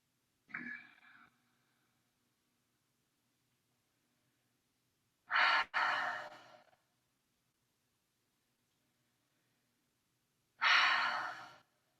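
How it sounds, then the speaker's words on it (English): Three slow, deep breaths during a mat barre workout, each a broad airy exhale, well spaced and alone, with quiet pauses between them. "A few more deep belly breaths here to reset."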